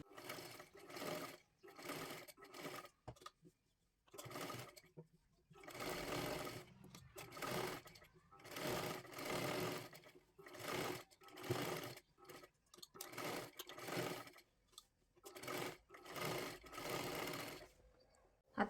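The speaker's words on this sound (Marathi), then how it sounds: "आता इथे कडेकडेला एक डबल शिलाई मारून घ्यायची आहे" A sewing machine double-stitches lace along the edge of a boat neck blouse in a series of short, whirring runs separated by brief pauses. The sound is quiet and close, with no talk.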